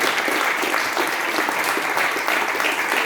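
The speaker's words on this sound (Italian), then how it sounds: "alla quale farei già da subito un applauso" Steady, dense applause from an audience at a musical reading, clapping continuously for about three seconds with no pauses or voices standing out.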